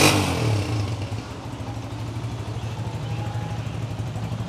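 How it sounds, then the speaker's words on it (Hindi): A 2012-model Honda 125 motorcycle idles close by with a steady low throbbing beat after a brief opening rev, and a faint rattle rides over the engine. "होंडा आपके सामने, ज़रा रेस दे के दिखाते हैं"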